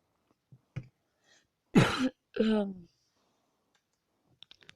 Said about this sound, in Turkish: Öksüresim geldi öksürdüm